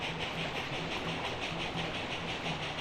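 Steady rolling rumble and rhythmic clatter of a grain or cattle train arriving in the Railroad Tycoon II video game, continuous and fairly loud with no talking.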